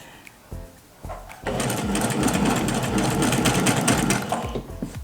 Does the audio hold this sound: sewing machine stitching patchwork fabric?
yes